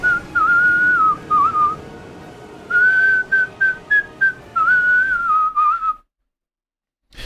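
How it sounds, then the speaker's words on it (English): Someone whistles a wavering melody along to the Elden Ring theme, in phrases broken by short pauses and a wash of reverberant background music, before falling silent near the end. "It sounds like there's someone whistling along to the tune."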